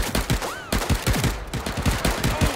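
Rapid gunfire from the Wolfenstein game, dense bursts of sharp shots crackling in quick succession across the whole clip, loud and close, with music-like tones mixed underneath.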